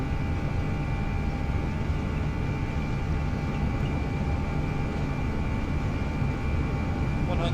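Airbus A320 engines run at full takeoff power in a flight simulator game. The roar is steady, broadband and continuous, with constant tonal whines layered on top and no voices.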